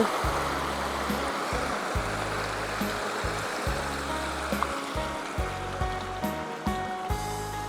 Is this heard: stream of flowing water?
yes